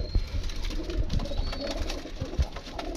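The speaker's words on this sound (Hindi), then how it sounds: "टैडी कबूतर है सारे ही आलमोस्ट" Teddy pigeons cooing nearby, soft throaty low coos repeating every second or so over faint background noise, no talking.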